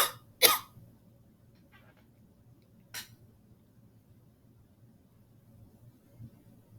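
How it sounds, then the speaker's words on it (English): A few sharp coughs up close, two in quick succession and then another after a pause, over a quiet background hum. "I'm sorry, I got a cough."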